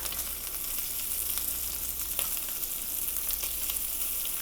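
Bratwurst browning in a pan for breakfast burritos, a steady, even sizzle at moderate level with a few faint clicks, heard alone without talk.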